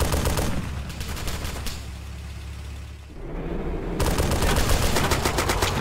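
Gunfire in ArmA 2: Operation Arrowhead, rapid bursts of shots crackling across a desert battle, dense and fairly loud throughout, dipping briefly in the middle before resuming at full intensity.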